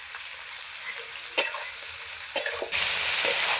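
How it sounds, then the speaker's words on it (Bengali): Vegetables and onion frying in a pan with a little salt, a soft steady sizzle punctuated by a few sharp stirring scrapes and clinks, close and alone without talk. "সবজি পেঁয়াজ একসাথে আমি ভেজে নেবো ভালো করে"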